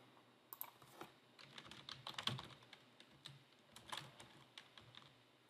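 Quick keystrokes on a computer keyboard as an API key nickname is entered, a close, irregular run of light clicks with brief pauses over several seconds and no voices.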